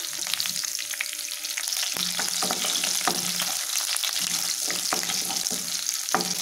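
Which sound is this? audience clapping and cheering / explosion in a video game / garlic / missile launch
garlic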